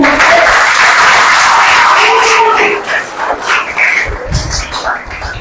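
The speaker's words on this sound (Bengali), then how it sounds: "সবাই হাতে তালি দেন" An audience in a health education class bursts into dense, loud hand clapping that holds steady for a couple of seconds, then thins into scattered claps and shuffling.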